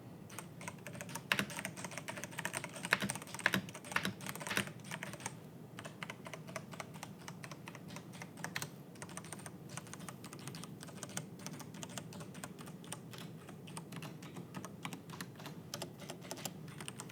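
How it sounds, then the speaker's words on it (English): Continuous fast typing on a Ducky Nazca Line One 3 Pro keyboard with Cherry MX2A brown switches: dense, even clacking keystrokes captured close, with occasional louder thocks and no voices. "I think we'll do a little sound test now."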